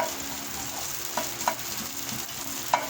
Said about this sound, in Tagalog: Sibuyas. Luluto tayo sibuyas.